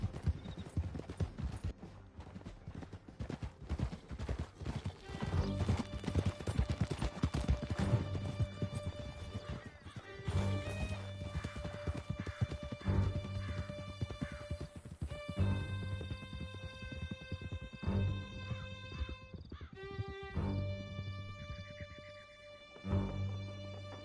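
A horse gallops hard in Red Dead Redemption 2, its hooves drumming in a fast, steady clip-clop through a canyon escape for most of the stretch. A game score plays underneath, and a voice calls out briefly.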